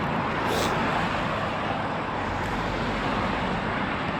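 Road traffic during an outdoor run: a continuous loud roar of passing vehicles and wind rumble, with no clear voices.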